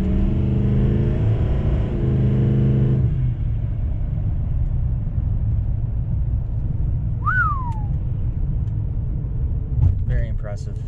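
An L5P Duramax diesel truck in second gear accelerates with a loud low rumble heard from inside the cab, its harmonic engine drone shifting then settling into a steady roar, with a brief whistle-like squeal partway through.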